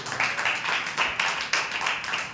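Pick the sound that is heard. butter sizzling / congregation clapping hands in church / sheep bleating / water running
congregation clapping hands in church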